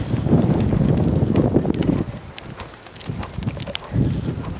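A horse cantering during a jumping lesson, its hooves thudding in a steady three-beat rhythm close by, partly buried under heavy wind noise.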